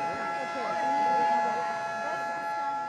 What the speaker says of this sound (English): The siren tells the people it's time to begin eating.